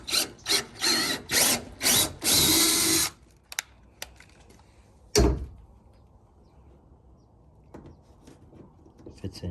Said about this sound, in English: I went ahead and got a bigger drill bit. This is a 1/2. Let's see if this one will work.